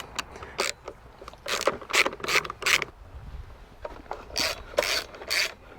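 Plastic headlight cowling coming off a motorcycle: a run of short rasping scrapes and clicks in quick bursts, close by, with brief quiet gaps between them.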